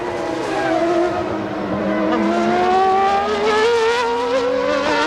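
A 1994 Formula One car, Gerhard Berger's race-leading machine at the German Grand Prix, screams through a chicane, its high-revving engine note rising and falling across gear changes, loud and close, with faint commentary underneath.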